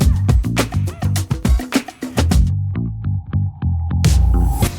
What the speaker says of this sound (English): Meet Steve, the compact on-demand grinder designed to elevate your coffee experience.